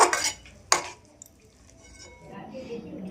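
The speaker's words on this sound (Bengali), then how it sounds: "গরম মশলা দিয়েছি আমি একটু নাড়িয়ে চাড়িয়ে দিলাম" Chicken kosha with garam masala being stirred in a pot: two sharp metal clanks of a spoon on the pot near the start, then quieter scraping and faint kitchen noise, with some low talk toward the end.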